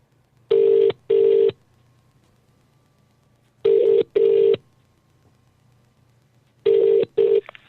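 Telephone ringback tone from an outgoing call: loud, clean electronic bursts that come in pairs, three pairs with long gaps between them, close up over a faint steady hum, with no voices.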